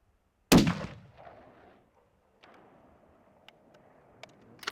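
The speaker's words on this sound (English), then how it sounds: "Just at the edge of camera shot, Nick's round finds its mark in the back of the neck." A single loud, sharp rifle shot at a red stag on a Highland deer stalk in Glen Etive, with a long fading echo rolling off the hills, then quiet outdoor ambience with a few faint ticks.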